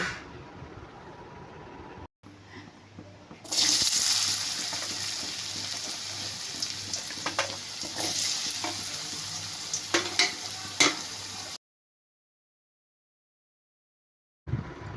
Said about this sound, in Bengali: কেটে রাখা আলুগুলো তেলের মধ্যে দিয়ে